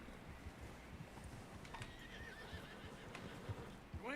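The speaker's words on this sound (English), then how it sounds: "Someone help John down off this horse" A horse in a western video game lets out a faint neigh near the end, over quiet, soft clip-clop hoofbeats and low background ambience.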